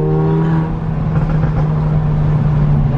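Mercedes CLA45 accelerating hard on the street, a loud close sustained engine roar holding a strong steady drone for the whole stretch with no talking.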